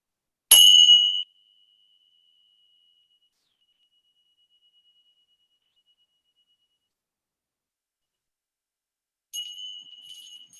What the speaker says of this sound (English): I have some tingshaws here